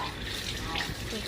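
Tap water running steadily while something is washed, a close continuous splashing gush that lasts the whole brief moment.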